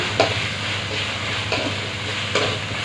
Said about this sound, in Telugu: అల్లం వెల్లుల్లి పేస్ట్ని చక్కగా వేయించుకోవాలి